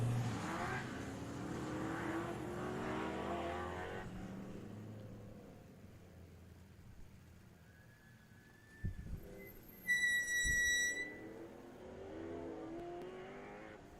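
A 1971 Corvette and a 1969 Camaro race side by side, engines roaring loudly at first, then fading into the distance, with brief sharp bursts and a high tone mid-run.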